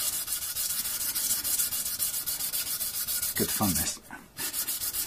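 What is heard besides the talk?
sanding white oak with sandpaper taped to a flat block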